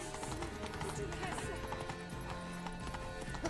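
Horse hooves clip-clop at a run in The Witcher 3, heard as a steady rhythm beneath game sounds and talking.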